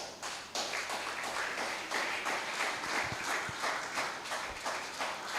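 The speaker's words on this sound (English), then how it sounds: "A round of applause for Barrister Raymond, please." Audience applause for Barrister Raymond at a real estate summit in Gwagwalada: a steady wash of clapping from a hall full of people, sustained and fairly even for several seconds with no talk over it.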